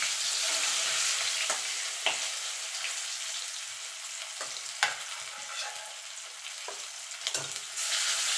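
Pieces of katla fish fry steadily in hot oil in a wok, a dense, continuous sizzle with occasional louder crackles and pops, heard close with no talking.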